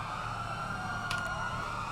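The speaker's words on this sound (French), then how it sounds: "Mets les sirènes, mets." A police siren from the GTA roleplay video game wails steadily in the background, a continuous even tone with no talk over it.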